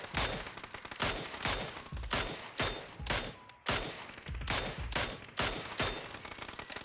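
Rifle fire in the battle-royale game PUBG, a series of sharp, evenly spaced single shots in quick taps of roughly four, loud and close with brief gaps between bursts.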